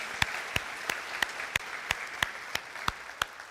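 A church congregation applauds the reading of scripture, a soft bed of clapping under a loud, regular rhythmic beat of sharp claps roughly three per second, as if in unison.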